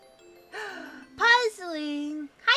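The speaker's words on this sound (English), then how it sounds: "Sorry, that's my alarm." A short electronic chime melody plays a few bright tones in sequence, close and clear, then starts again at the end.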